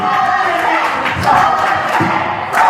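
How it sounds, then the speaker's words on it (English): Crowd noise from a live wrestling show audience, loud and rhythmic with shouting voices and occasional thumps, sustained throughout. "That's a chant I didn't think we'd get."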